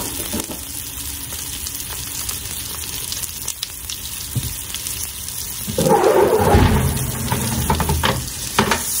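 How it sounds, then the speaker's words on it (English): T-bone steak sears in a hot pan with steady sizzling and frying that swells louder partway through as the meat hits the pan, close and continuous, with no talking. "Sear it on both sides."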